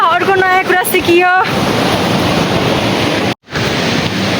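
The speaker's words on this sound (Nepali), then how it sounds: "झर्नाको साउन्ड आइरहेछ" Rushing water at Gurje waterfall near Kathmandu roars as a loud, steady broadband wash after a few seconds of people talking nearby, briefly cut off once before resuming.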